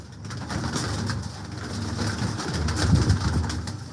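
Caged breeding pigeons coo continuously, a dense chorus of soft, throaty murmurs from many birds close by, with no talking over it.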